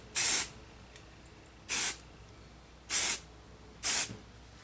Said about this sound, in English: Just a quick little spritz.